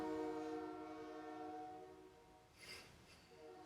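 Train horn sounding from a passing train, steady tonal blasts fading slightly over a few seconds with rumbling rail noise and a brief noisy burst near the end.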